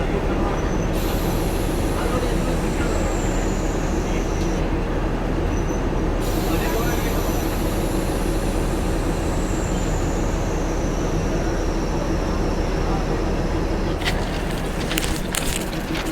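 A Kolar–Bengaluru DEMU train rumbles steadily along the track with constant low roar, high whining wheel tones sliding downward, and a burst of metallic clatter near the end.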